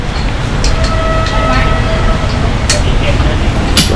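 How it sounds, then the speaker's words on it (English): A train arrives at a station in Thailand with a loud, steady low rumble and occasional sharp clacks and squeaks, close by and filling the space. "The train is on time"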